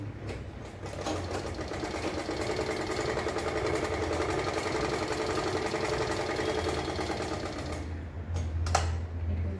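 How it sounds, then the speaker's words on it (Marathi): A sewing machine runs steadily as it stitches the same seam along each side of a piece of fabric, giving a continuous close mechanical whir for about eight seconds before it slows and stops with a few clicks. "चारी बाजूला पण सेम तसं स्टिच करायचं."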